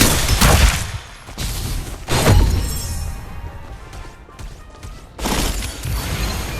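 Loud bursts of gunfire in the video game Farlight 84 crack out in several volleys, with sharp impacts and brief quieter gaps between them.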